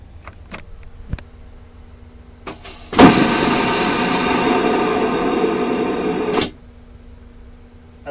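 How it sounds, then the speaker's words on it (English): Vacuum toilet on an Amtrak train flushing: after a few clicks, a sudden loud roaring whoosh of suction holds steady for about three and a half seconds, then cuts off abruptly, leaving a low hum. "I don't think I will ever not be unnerved by vacuum toilets, such as they use on modern train cars and airplanes."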